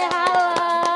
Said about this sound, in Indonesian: Beri tepuk tangan Maria buat Mutiara.